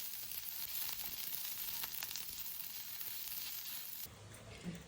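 Onion frying in oil for a rustic village-style mutton curry, a steady close crackling sizzle running evenly with a brief drop near the end.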